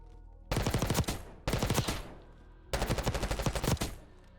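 A submachine gun in the video game Black Ops 6 fires three loud rapid bursts, each a fast rattling string of shots, the last burst the longest, with short quiet pauses between and no talking.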